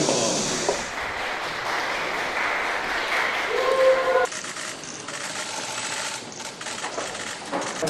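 Applause from a crowd at a Korean defense-reform gathering, a steady dense clatter of clapping that carries on for about eight seconds before easing slightly partway through, with faint voices mixed underneath.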